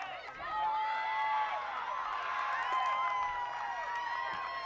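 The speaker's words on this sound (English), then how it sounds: "That really got the crowd fired up there, didn't it?" A crowd cheering at a women's college lacrosse tournament game, a sustained roar of voices and shouts rising quickly and holding, with commentators talking over it.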